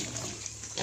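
Native pigs grunt at close range while being fed banana and papaya peels, in a brief, steady, low snuffling burst with a louder grunt at the end.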